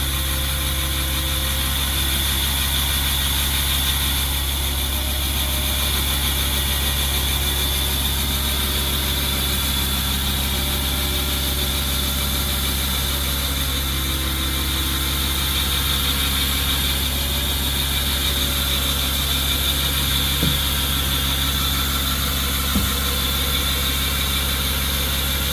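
Saw cutting through the concrete core of an ICF wall, a steady loud droning grind with a constant low engine-like hum that runs unbroken for the whole stretch, with a couple of faint knocks near the end.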